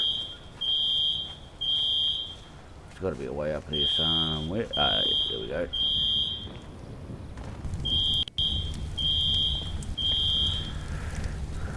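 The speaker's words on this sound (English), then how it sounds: "We'll turn the alarm off once we get up onto the roof." A smoke alarm in the FiveM game sounds in steady repeated high electronic beeps, loud and close, pausing briefly while someone talks over it, then beeping on again.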